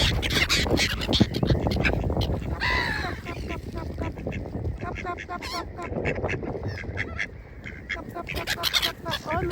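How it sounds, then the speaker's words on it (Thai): Several ducks quack loudly and repeatedly close by, overlapping nasal calls mixed with honking, while a person talks in between. "เป็ดน้อย"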